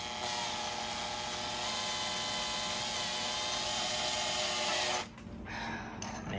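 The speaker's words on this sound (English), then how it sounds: "I want to drill into this" A power drill whines steadily and loudly into a Klipsch speaker cabinet for about five seconds, then it stops abruptly, leaving faint room noise.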